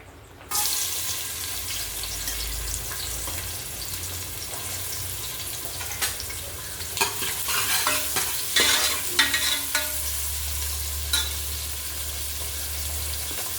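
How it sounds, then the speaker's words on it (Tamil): Chopped onion hits a ladle of hot oil and crackles into a steady broadband sizzle, with stirring clatter and occasional scrapes of a utensil against the pan; no one speaks. "எண்ணெய் ஒரு கரண்டி ஊற்றி வச்சுருக்கேன். இதில் வெங்காயம் போட்டுக்கலாம்."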